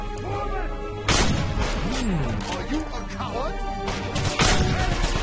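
Grenade explosions in the Wolfenstein video game, with several loud bursts heard among other game noise and whistling effects, and someone speaking over the action.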